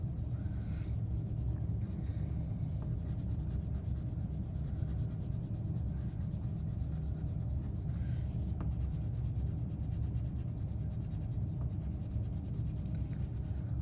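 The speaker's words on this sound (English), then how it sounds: "Okay, and then I can color those in." A marker rubs back and forth across paper, filling in a drawn flower, giving a soft, continuous scratchy scribbling at close range, faint and steady with no talking.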